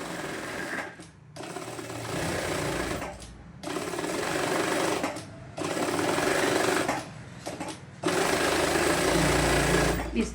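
A sewing machine stitches along the edge of buckram for a neckline: loud, close bursts of rapid mechanical whirring, four runs separated by brief pauses, with a voice talking during the breaks.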